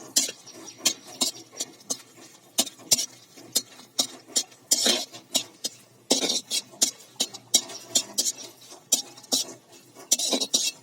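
Dried red chillies fry in oil in a wok, heard as a quiet background crackle under repeated sharp metallic clinks and scrapes of a spoon stirring against the pan.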